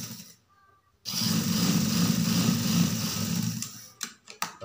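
A sewing machine runs in one steady burst of about three seconds, stitching a side pocket onto a shirt, with a rapid close mechanical chatter, then stops and a few handling clicks follow.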